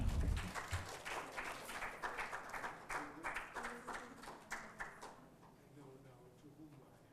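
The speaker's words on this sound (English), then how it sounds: "A big round of applause, ladies and gentlemen" Audience applause at an awards ceremony, the Lincoln Global Leadership Awards in Trichy, clapping spread through the room and fading gradually, with a voice speaking over it at moderate distance.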